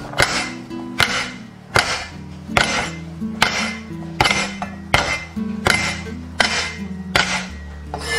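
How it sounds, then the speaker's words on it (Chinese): A cleaver smashes a pile of garlic cloves on a chopping board, about eleven sharp, loud knocks at a steady pace, each with a short ringing clatter, alone with no talk. "接下来准备多一点的大蒜， 先给它拍碎。"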